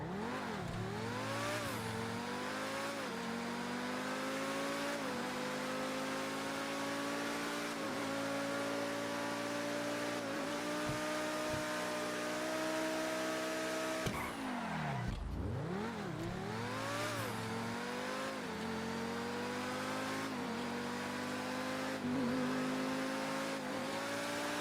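A car engine in a racing game revs hard and climbs in pitch, dropping at quick short shifts and pulling up again. The loud, continuous whine carries boost through repeated gear changes.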